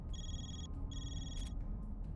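A phone rings in The Legend of Heroes: Trails Through Daybreak, two bright electronic trills in a repeating ring pattern over a steady game soundtrack.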